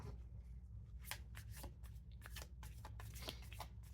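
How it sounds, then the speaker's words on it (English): A deck of tarot cards is shuffled close by at a quiet level, giving a string of soft, irregular riffling flicks and slaps with no talking. "Feel free to fast forward through the shuffling if you like."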